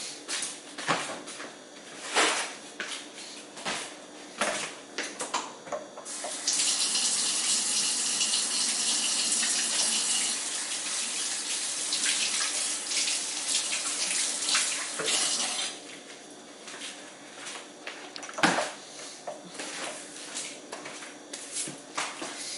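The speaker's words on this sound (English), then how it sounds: "I'm gonna wash my hands." A tap runs while hands are washed, clattering splashes and knocks at first, then a steady loud gush of flowing water for several seconds before breaking back into intermittent splashing and handling noises.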